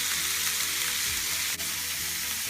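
Vegetables sizzling in oil while being stir-fried for a chicken stir-fry, a steady close hiss with one brief scrape partway through and no talking.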